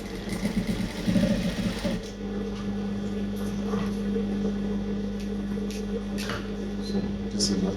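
A sewing machine stitches around a cargo pants pocket as a steady, even hum for most of the span, following a short busier start with brief faint talk over it.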